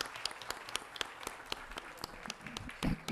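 Scattered clapping during a legislative session as a medal recipient is honored, a modest burst of hand claps with a few sharp individual claps standing out, growing briefly louder near the end.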